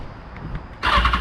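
BMW S1000RR motorcycle fitted with a replica SC Project exhaust fires up, a sudden loud burst of engine roar after a brief quiet moment outdoors.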